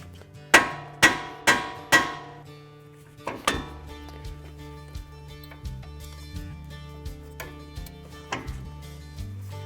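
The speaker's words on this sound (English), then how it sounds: "we'll tap the end of the knuckle here with a hammer to try and get that upper arm free" Hammer blows on a Ford Ranger steering knuckle to free the upper control arm ball joint during a Fox 2.5 coilover install: four loud, evenly spaced metallic strikes, then a string of lighter, quicker taps.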